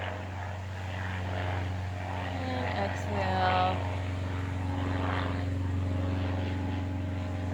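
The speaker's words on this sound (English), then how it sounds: "this plane is driving me insane" A propeller airplane drones steadily overhead throughout, a constant low hum that swells slightly in the middle. A voice leads a yoga session over it.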